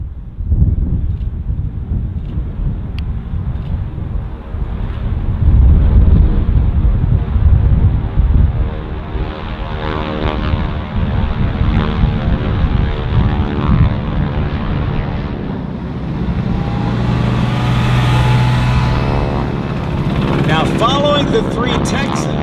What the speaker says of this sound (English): listen to the sound of these 600 horsepower motors on the North American Texans as they launch